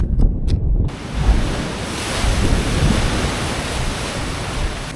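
Ocean waves crash and wash continuously nearby at an Irish surfing spot, a broad roaring surf with wind buffeting the microphone.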